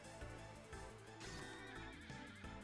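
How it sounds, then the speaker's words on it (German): Sleipnir, Odin's six-legged horse in the video game Final Fantasy VIII, gives a brief whinny, heard faintly within a loud, dense orchestral game score. "Auf Sleipnir, den sechsfüßigen Pferd."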